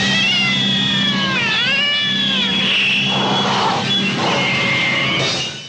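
A cat meows and caterwauls in long, rising and falling wails that bend and warble, loud and close, one drawn-out cry after another with a low hum underneath.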